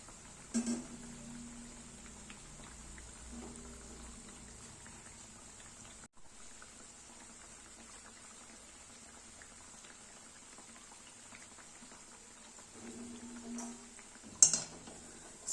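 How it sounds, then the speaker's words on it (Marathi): Moong dal vadas deep frying in oil give off a faint, steady bubbling hiss, with a few brief clinks near the start and end. "अशाच पद्धतीने सर्व वडे मी इथे तळून घेणार आहे"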